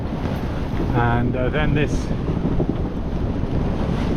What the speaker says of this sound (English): It's kind of force 4, white horses, quite a lot of water coming over the bow